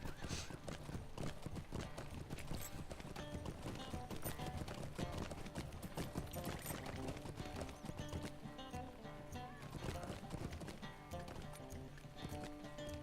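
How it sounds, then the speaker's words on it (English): Horse hooves clip-clop in the fantasy video game Lord of the Rings Online while riding a stable-master taxi horse, a steady rhythmic trot over continuous game music and ambience. "I need the South Bree taxi horse. Stable master. I still call them taxi horses."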